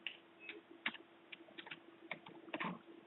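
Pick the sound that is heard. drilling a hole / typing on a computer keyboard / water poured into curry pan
typing on a computer keyboard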